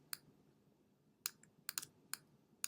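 Sharp computer mouse clicks during image editing in Photoshop, a handful of quick, close, dry clicks in an irregular rhythm, some in tight pairs, over a quiet background.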